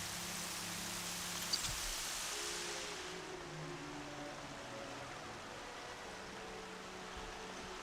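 Rain falling in the video game Horizon Zero Dawn, a steady hiss of rainfall that is brighter at first, then softer and duller, with low rumbling game ambience beneath.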